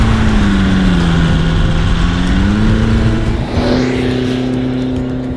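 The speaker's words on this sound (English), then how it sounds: "that is the sweet, sweet sound of a brand new turbo diesel engine." A brand-new turbo diesel engine in a Volkswagen Vanagon runs close by with a low, steady drone whose pitch dips and then rises as it revs, loud and continuous with no voices.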